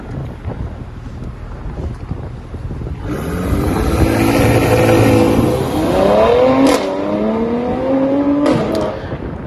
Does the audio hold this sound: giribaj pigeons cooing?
no